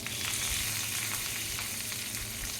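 Spices tempering in hot oil in a pan, for a Telugu-style cucumber chutney, give a steady, dense sizzle and crackle that runs unbroken and close throughout, with no voices.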